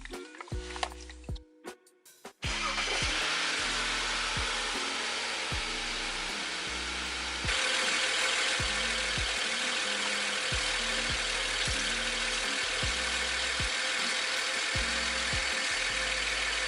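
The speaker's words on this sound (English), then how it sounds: "and then I'm gonna turn on the car" A BMW 135i engine cranks and catches after a few brief handling knocks, then settles into a loud, steady close-up idle with a rhythmic low throb.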